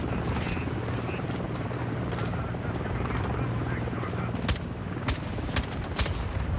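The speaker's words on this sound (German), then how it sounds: "Hört ihr das? Hubschrauber, ja." Steady low rotor thrum of a helicopter in Call of Duty: Modern Warfare 2 (2022) fills the scene, with sharp bursts of gunfire cracking through in the second half.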